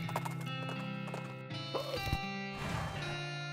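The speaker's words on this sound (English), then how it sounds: "Oh dang, this horse had a little too much to drink." A drunk horse in the West of Loathing game snorts and whinnies amid clip-clopping hooves and a looping musical backdrop, several short bursts over a few seconds.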